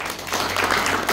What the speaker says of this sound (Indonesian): Beri tepuk tangan ke Tuhan.